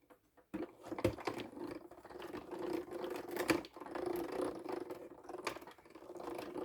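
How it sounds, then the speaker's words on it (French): A paper card feeds through a manual die-cutting craft machine, giving a quiet, steady grinding and clicking crunch with a few sharper ticks, heard close and alone. "Je vais le passer comme ça dans ma machine."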